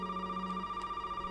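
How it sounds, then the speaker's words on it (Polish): A telephone rings in the horror video game Resident Evil 7 Biohazard, a steady electronic tone held over faint background hum, with no talking. "teraz już mogę odebrać telefon"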